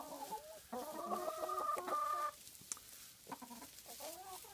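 Welsummer hens in a backyard flock clucking and letting out a loud squawking cry, a close series of rising calls followed by quieter clucks.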